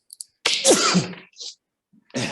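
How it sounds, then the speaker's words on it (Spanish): One loud, close sneeze bursts out as a quick sharp intake and an explosive blast, followed by a brief softer breath, in a quiet room during a talk. "Voy a estornudar, perdón."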